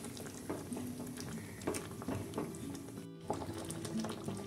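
Tomato and raw tamarind chutney simmers in a pan with a soft continuous bubbling and popping, a close, low-level texture broken by a brief pause.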